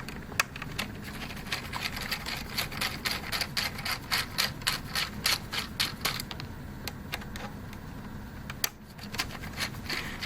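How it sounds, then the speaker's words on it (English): A small Torx 8 screwdriver works screws out of a laptop, making a quick run of light scratchy, ratcheting clicks, then a few separate ticks and taps, close and faint. "All the Torx 8 screws that you see here that we're taking out"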